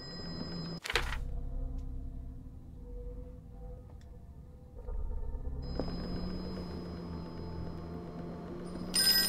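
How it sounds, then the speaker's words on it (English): An old-style telephone rings in the Call of Cthulhu video game, two quiet bursts of ringing separated by a hushed, humming interior ambience, with no voices. "Alright, I'll pick up the phone instead of drinking."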